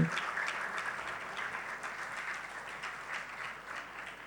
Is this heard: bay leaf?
no